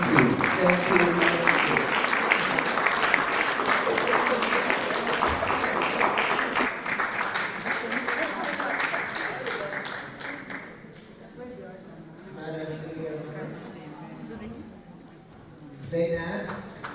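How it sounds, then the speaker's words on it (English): A conference audience in Nigeria claps in a dense, sustained round of applause that gradually thins and fades. A speaker talks over and after the clapping. "Another round of applause."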